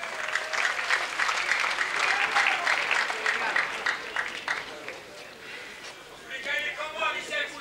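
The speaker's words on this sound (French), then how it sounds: "vous pouvez l'applaudir quand même" A crowd at a boxing gala in Juan-les-Pins applauds in a sustained burst of clapping, with an announcer's voice cutting in over it and talk emerging as the applause thins near the end.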